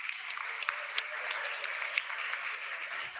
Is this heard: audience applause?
yes